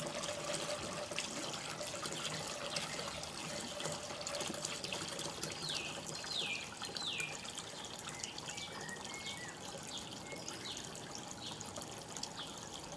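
Water trickles steadily back into an aquaponics tank with duckweed during a flood and drain cycle, a faint, continuous splashing flow with a few brief high chirps partway through.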